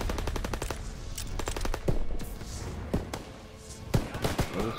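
Call of Duty WWII battlefield fighting at a bridge over the Seine, with rapid machine gun bursts clattering in quick repeated volleys, then separate heavier shots and thuds, loud and close, with no talking.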